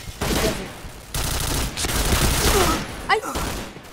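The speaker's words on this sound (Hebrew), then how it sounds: "אין לי רובה, אני משתמש באקדח" Rapid pistol gunfire in a video game, a dense run of sharp shots with a few louder bursts near the end, heard close and loud amid game noise with people talking over it.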